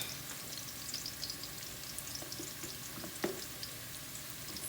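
Garlic browns in a pan with a soft, steady sizzle and faint crackles throughout, fairly quiet, with no voices.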